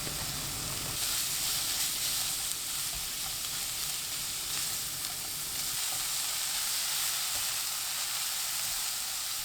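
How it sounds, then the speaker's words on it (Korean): Carrots stir-frying over high heat in a pan with cooking oil and minced garlic, a steady close sizzle and hiss running continuously throughout with no talking. "당근 넣고 2분 볶아주세요."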